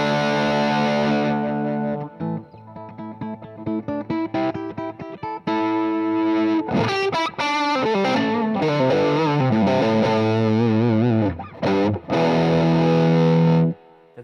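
Raw, distorted electric guitar tones played live at a band sound check, sustained chords and notes with heavy distortion and chorus-like shimmer, loud and continuous with brief gaps between phrases.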